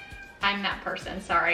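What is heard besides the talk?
pet cat meowing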